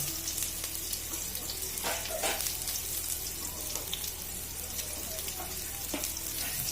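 Small onions fry in a pan for idli upma, giving a faint, continuous sizzle with light crackles and a few soft stirring scrapes, no one talking.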